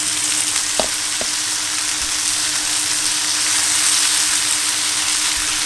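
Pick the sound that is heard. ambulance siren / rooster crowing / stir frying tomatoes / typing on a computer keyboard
stir frying tomatoes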